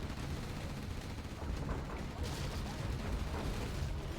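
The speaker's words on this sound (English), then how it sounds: "all these missile men are getting gunned down now" Command & Conquer battlefield gunfire between Overlord tanks, Gatling cannons and missile infantry makes a dense, muffled clatter of shots over constant rumbling, kept fairly quiet and heard without talk.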